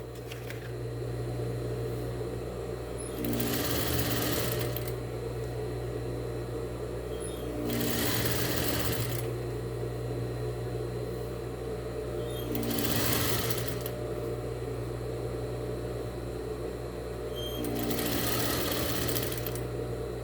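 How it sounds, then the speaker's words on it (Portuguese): A sewing machine stitches a dish towel in four evenly spaced bursts of rapid mechanical whirring, each a couple of seconds long, over a constant low hum, and no one speaks. "E vou costurar aqui novamente."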